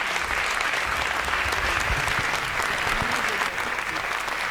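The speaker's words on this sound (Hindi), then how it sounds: "जोरदार तालियां सबरस मुरसानी।" Audience at a Hindi comic poetry recital applauds poet Sabras Mursani with loud, dense, continuous clapping from a close crowd throughout, with scattered voices mixed in.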